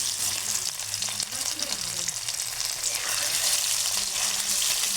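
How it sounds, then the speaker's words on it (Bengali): Potatoes fry in hot oil with turmeric and salt, a steady close sizzle with occasional stirring scrapes, no talking. "এই যে আমার আলুগুলো ভাজা হচ্ছে।"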